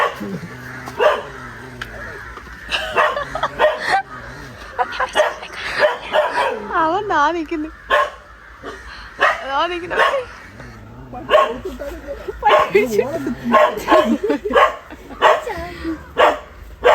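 A dog barks in repeated sharp bursts with some yips and whimpers, fairly close, while several people talk over and between the barks.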